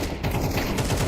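Gunfire bursts densely through a short video game firefight, loud and close, with shots overlapping in rapid succession rather than single isolated blasts.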